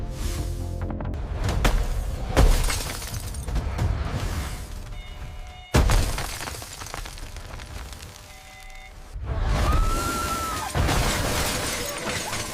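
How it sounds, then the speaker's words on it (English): A glass laboratory tank bursts apart as a giant king cobra breaks free, loud shattering crashes with debris scattering, then another violent smash and crackling fragments, intense and close with rumbling impacts. "The glass tank explodes."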